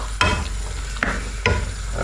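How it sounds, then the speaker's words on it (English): Potatoes get stirred into a pan for a Welsh oggie filling, with three sharp scraping strokes of a spoon over a close, steady sizzle. "we are now going to put in our potatoes, stir those in"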